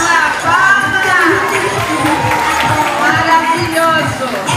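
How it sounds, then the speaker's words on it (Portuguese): Audience at a costume fashion show cheers and applauds loudly in a steady wash of crowd noise, with shouts and whoops rising over it and voices talking throughout. "É isso aí, palmas."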